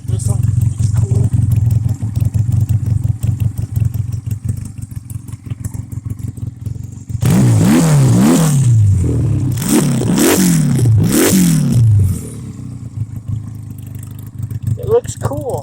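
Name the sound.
Honda Rebel 250 motorcycle engine revving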